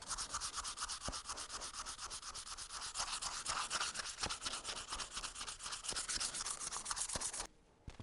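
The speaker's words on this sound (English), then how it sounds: "We're just going to start hand sanding." A forged low-layer Damascus steel blade is hand sanded in quick, rhythmic back-and-forth rasping strokes, close and steady for several seconds before stopping abruptly near the end.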